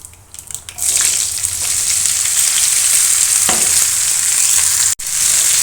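Boiled broad beans drop into hot oil with dried red chillies and curry leaves, setting off a loud, steady sizzle that holds without a break. A brief gap comes near the end. No one speaks.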